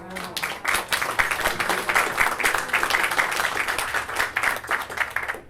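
An audience applauds at an event at the Lambs club honouring actress Carroll Baker, dense sustained clapping that is loud and continuous throughout.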